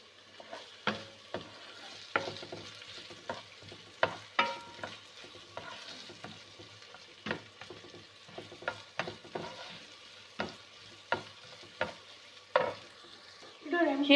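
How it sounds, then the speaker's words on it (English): Onion fries in a pan, a soft, steady sizzle punctuated by frequent clicks and scrapes of a spoon stirring against the metal, close and fairly quiet. "I'm going to fry this onion until it becomes brown"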